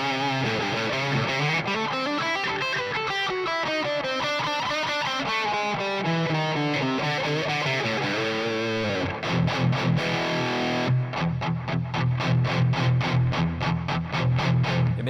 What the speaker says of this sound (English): So playing dynamics here can cause the amp to distort.